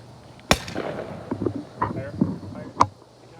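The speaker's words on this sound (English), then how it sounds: "This is the first time I actually lit fireworks on New Year's Eve." Fireworks on New Year's Eve in a neighbourhood: a sharp bang followed by scattered, fainter pops and crackles at a distance over a steady low background hum.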